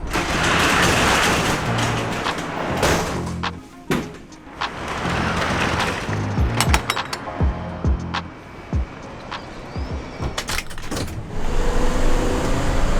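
A U-Haul rental truck engine idles steadily and fairly loud up close, with occasional clicks and mechanical rattles over the running drone.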